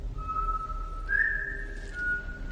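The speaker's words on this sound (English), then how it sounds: "It's all he does is whistle." A man whistles a steady, sustained tune close by, the melody rising partway through, with a low background rumble and no talking.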